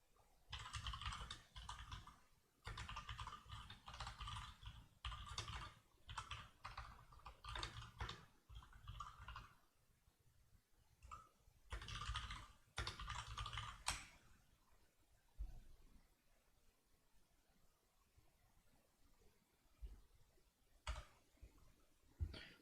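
Rapid clattering keystrokes on a computer keyboard come in bursts, dense runs of clicks broken by short pauses, fading to sparse taps toward the end, all fairly quiet with no talking.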